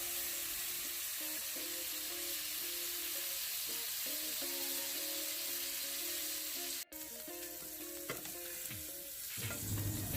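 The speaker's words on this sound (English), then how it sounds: "listen for that sizzle" Pork chops sizzle steadily in a hot pan on a stovetop, a continuous close frying hiss with a sharp click partway through and some clatter near the end.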